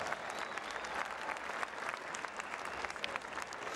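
Sustained applause from a crowd at a girls' high school state basketball championship in an arena, a dense continuous clapping that holds steady throughout.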